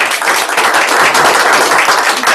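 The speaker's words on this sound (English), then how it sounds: "So give yourself a round of applause on that" Room of attendees at a sales meeting breaking into a round of applause, loud, dense and unbroken clapping from many people close by, lasting the whole short stretch.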